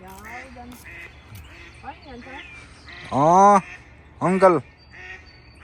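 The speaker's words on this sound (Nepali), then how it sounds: "हाँसको बच्चा खेलिरहेछन्" Ducklings quack in a few loud, close bursts, a run of rapid squawks followed by a second shorter burst, amid soft talking from people nearby.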